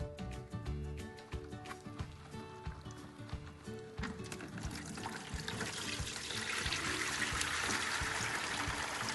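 Water trickles steadily from a gravity water filter into a bucket, a continuous close splashing that thickens and grows slightly louder toward the end.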